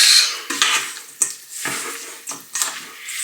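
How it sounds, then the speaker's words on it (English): Chopped plantain salad is tossed in a bowl, giving repeated soft scraping, clinking and wet mixing strokes at close range, in uneven bursts. "Chop plantain into your bowl. Give that a good mix."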